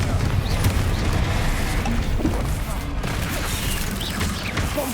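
Confringo fire spell blasts go off in Hogwarts Legacy amid dense, loud battle noise, with booms and crashes layered over a continuous roar that does not let up.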